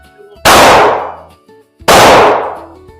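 Two loud, close shots from a 9 millimeter Glock 45 pistol, roughly a second and a half apart, each a sharp crack with a long ringing decay, no talk.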